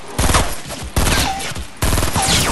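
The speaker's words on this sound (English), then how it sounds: "I hear people shooting." Rapid bursts of automatic gunfire in the video game Fortnite, three loud dense volleys in quick succession, each a crackling fusillade of close shots.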